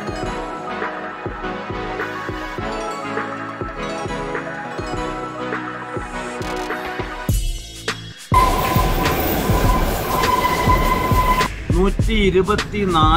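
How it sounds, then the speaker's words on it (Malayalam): Kalka-Shimla heritage toy train, commissioned in 1903, climbing slowly uphill: rhythmic rail clatter under music at first, then a loud rumbling, squealing run of wheels and carriage noise up close. "ട്രെയിൻ പതുക്കെ മുകളിലേക്ക് കയറി ഏതാണ്ട് 1800 അടി ഉയരത്തിലേക്ക് കയറിപ്പോവുകയാണ്"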